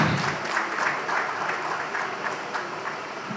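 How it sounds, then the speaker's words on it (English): Steady applause from a conference audience, many hands clapping continuously at moderate volume with no speech over it. "If you want to clap, clap."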